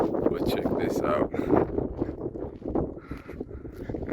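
Steady wind roaring across the microphone in a mountain valley in Pakistan, loud and close, with someone talking over it throughout.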